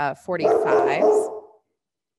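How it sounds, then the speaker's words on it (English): A pet dog gives a short bark, then a whining yip that overlaps a man's speech, all close and indoors before cutting to silence. "Excuse my dog barking."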